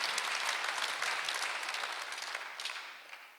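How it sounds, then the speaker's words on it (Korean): Congregation applauding during a Korean Sunday church service, a bright, steady burst of many hands clapping that slowly fades over a few seconds. "박수 한번 주시오."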